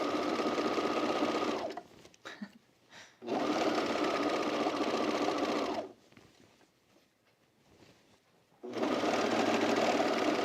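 Sewing machine stitching a dense stitch length while a dress is refashioned, running in three long steady whirring bursts with quiet pauses between them, close and clear.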